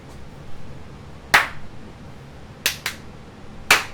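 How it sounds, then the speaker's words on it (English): Several sharp single hand claps, spaced apart with a quick double clap in the middle, loud and close in a quiet room with faint background noise. "Your clap is so much louder."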